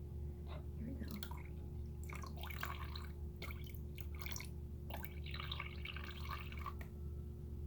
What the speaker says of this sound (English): if I squeeze it, you can see more water come out.